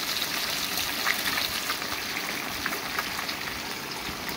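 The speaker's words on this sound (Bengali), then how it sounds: "মাছ ভাজতে বসে দিয়েছি।" Fish fries in oil in a pan in a home kitchen, giving a continuous close hiss and crackle, like rain on a surface, steady throughout with no talking.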